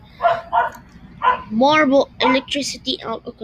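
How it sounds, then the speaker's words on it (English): A pet dog barks and yips in a room during a Roblox Deathrun game session, sharp repeated barks and whimpers heard close by while a person talks over them. "If you hear dog noises, that's just my dog."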